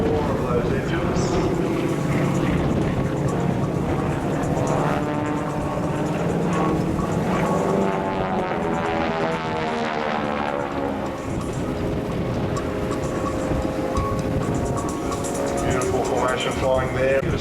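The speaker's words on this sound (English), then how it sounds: "let's listen to the roar of those engines" Lockheed Constellation piston engines at the 2009 Avalon Air Show give a loud, continuous roar, and their pitch bends midway as the aircraft passes close by.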